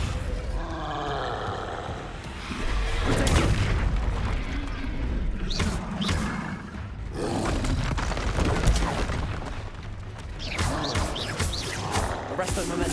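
Spell impacts from Descendo in Hogwarts Legacy, heavy booming thuds and rumbling crashes that recur across the stretch, with spoken voices mixed in among the hits.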